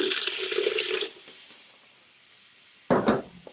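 Water runs and splashes into a container during home yarn dyeing: a loud steady pour for about a second, quiet, then a short burst of splashing near the end.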